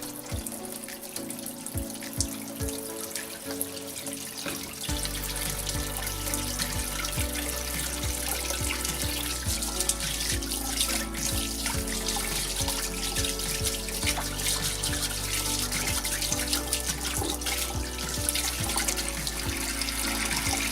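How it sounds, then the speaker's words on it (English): A kitchen water tap runs steadily into a sink while hands are washed before cooking, a constant close splashing rush with shifting patter as the hands move under the stream, no speech. "But before we start, let's wash our hands"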